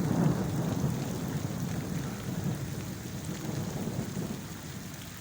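Steady rain falling outdoors on wild herbs and plants, with distant thunder rumbling beneath a continuous broadband patter that stays fairly constant throughout, no voices.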